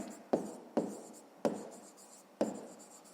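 Close handwriting on paper during a fifth-grade maths exercise, four distinct pen strokes or scribbles at irregular intervals, each starting sharply and trailing off, with no talk.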